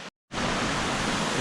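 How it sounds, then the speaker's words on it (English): Big waterfall at San Vicente de Chucuri, Colombia: a steady, dense roar of falling water, broad and loud after a brief silent gap at the start, with no voices. "I don't know if it's the big waterfall."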